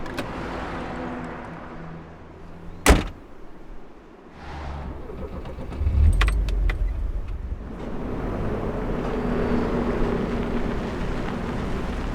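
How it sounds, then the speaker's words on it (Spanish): A car door thumps shut, then an engine starts and the car pulls away, a low rumble building and settling into a steady drive at moderate distance. "sube al auto y continúa su marcha"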